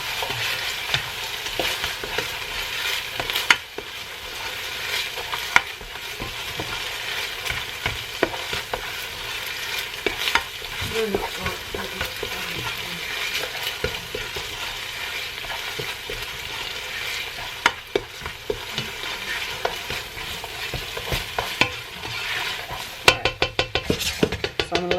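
Chopped onion fries in a pan for homemade ramen, a constant sizzle broken by the scrape and knock of stirring utensils against the pan, close up with no talking.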